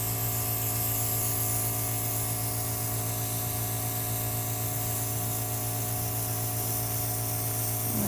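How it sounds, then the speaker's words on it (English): An airbrush sprays paint onto a bald cap, a continuous, even hiss of compressed air running steadily without pause for several seconds, close and moderately quiet. "And we're just gonna spray right on top."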